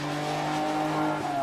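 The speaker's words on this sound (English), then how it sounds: "the ex-Cordes GTE can once again feel the tarmac of a racetrack under its wheels" A Ferrari GTE race car with a 3-liter V12 engine running on a racetrack, a close, sustained engine drone with a slight pitch shift near the end of the brief burst.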